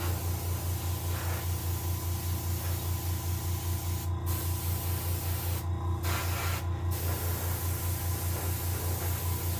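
A spray can coats a green sunfish taxidermy mount in off-white paint, giving a continuous close hiss over a low steady hum, with brief breaks in the spray between passes.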